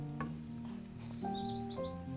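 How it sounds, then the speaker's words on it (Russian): Onion sizzles softly in a frying pan before chicken goes in, a steady fry with a couple of stirring clinks and faint high squeaks, no talking. "Отправляю курицу в сковородку."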